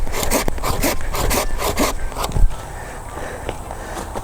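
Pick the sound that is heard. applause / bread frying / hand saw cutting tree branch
hand saw cutting tree branch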